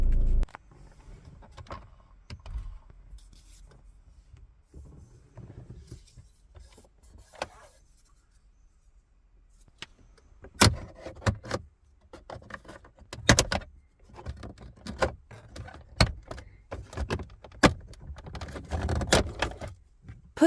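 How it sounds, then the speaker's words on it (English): Plastic interior trim on a Peugeot 308CC being pried off with a trim removal tool: quiet rustling at first, then a series of sharp clicks and snaps from the clips popping loose, close up with no voices. "We start by prizing off the surrounding trim with a trim removal tool."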